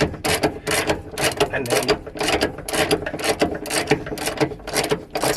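A ratchet tightens a bolt onto a stud during an HSV VZ GTO boot install, making rapid rhythmic clicking bursts in quick repeated strokes, close and loud, with a brief spoken phrase.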